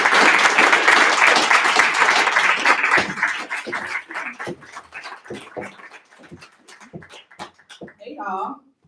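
Audience applause and cheering at a Black History Month poetry night as a poet walks to the stage, loud and dense at first, then thinning into scattered claps before a voice begins speaking.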